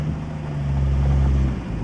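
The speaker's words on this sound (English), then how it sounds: "the car rolls in reverse just fine" A Chevrolet Styleliner Deluxe runs with its engine holding a steady low idle rumble as the car rolls in reverse, a continuous near drone with no voices.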